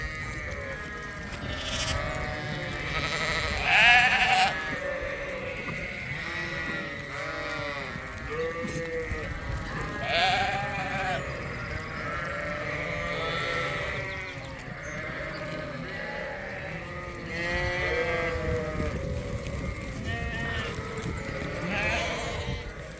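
Fall ewe lambs bleating on a sheep farm, many overlapping calls from a close flock, repeated loudly throughout with a brief voice underneath.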